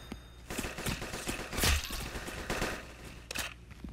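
Rapid gunfire in the Roblox game Arsenal, a quick run of sharp shots with one heavier thump in the middle, fairly quiet and without speech.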